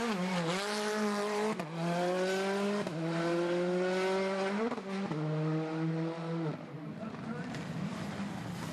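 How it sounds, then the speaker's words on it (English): A rally car spins donuts on a spectator stage at Rally New Zealand, its engine loud and close, revving in repeated rising and falling surges that track each rotation before easing off near the end. "Down for one more set of donuts"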